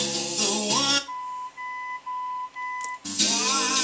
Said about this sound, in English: that's going to put you in the fader mode once it quits beeping